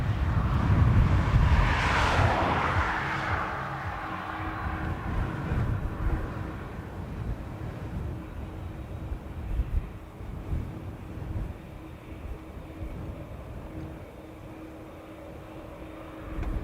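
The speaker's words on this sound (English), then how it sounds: "this 330 is just about to land" A Qatar Airways Airbus A330 roars past on landing at Dublin Airport on a crosswind day, a broad loud jet rush swelling early then fading into a low steady rumble with wind noise.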